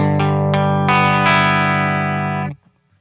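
A distorted electric guitar chord played loosely, several strums in quick succession with unmuted strings ringing together, loud and sustained before cutting off sharply after about two and a half seconds.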